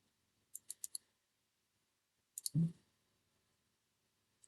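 A computer mouse clicks crisply and quietly in a fast run of four, then gives a quick double click with a soft thump, and a lone faint click follows in near silence.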